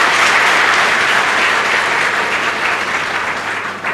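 An audience at an academy felicitation ceremony claps loudly and steadily in a dense wash of applause, sustained throughout and tapering slightly at the end.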